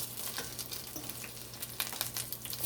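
Saltfish cod fritters frying in hot oil give a steady, quiet sizzle with small crackling pops throughout, close by and with no voices.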